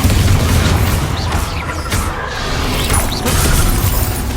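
A Bombarda spell explodes in Hogwarts Legacy, giving a loud, dense booming blast with crashing, shattering debris that rumbles on steadily without pause.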